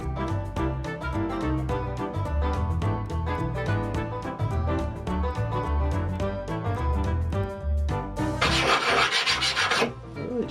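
A chipper shredder blade is sharpened by hand on the coarse side of a sharpening stone, giving steady, close rhythmic rasping strokes throughout, with a brighter gritty scraping burst near the end.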